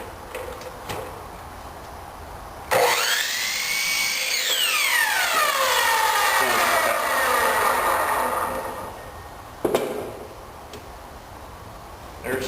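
A small power saw bites into wood being cut for an anvil stand, a loud whining cut with the pitch dropping as the blade bogs down, lasting several seconds before spinning down, with clicks and handling noise around it.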